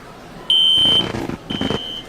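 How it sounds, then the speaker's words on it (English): An alarm in an animated cartoon sounds as two loud, piercing electronic beeps like a smoke alarm, each about half a second, with rumbling commotion beneath. "Why is there an alarm all of a sudden?"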